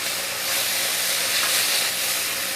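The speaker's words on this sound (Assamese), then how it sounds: "আৰু এতিয়া ইয়াতে মই গৰম পানী দিম" Hot water poured into a pan of frying rohu fish with black sesame seeds, giving a steady loud hiss and sizzle of steam with no talking.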